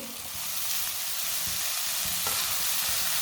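Finely chopped cabbage and bell pepper fry in a pan with onions, producing a dense, steady hiss of close sizzling throughout, without talk.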